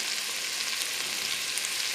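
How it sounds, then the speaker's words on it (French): Peas tajine ingredients sauté in butter and oil with a steady, dense sizzle that stays even and close throughout, with no talk. "Donc je fais revenir le tout pendant 5 à 8 minutes"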